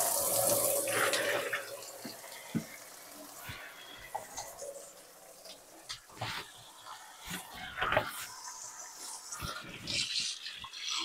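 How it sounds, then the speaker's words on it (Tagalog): Tap water runs into a sink while cabbage is washed for summer kimchi, a continuous close splashing with clattering handling noises and no speech. "And then hugasan ko ulit. Para talaga malinis yung cabbage."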